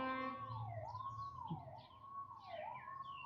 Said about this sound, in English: Noticing how your mind is responding to the sirens.